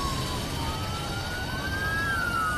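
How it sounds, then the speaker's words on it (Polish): An emergency siren near the north runway at Atlanta airport during a fire brigade drill, wailing and slowly rising and falling in pitch over a constant background roar, heard at a moderate distance. "nieopodal pasa północnego odzywają się syreny alarmowe"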